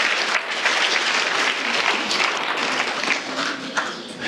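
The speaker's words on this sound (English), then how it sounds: "Let's have a round of applause for helium." An audience applauds for helium, the dense clapping steady and loud throughout without fading.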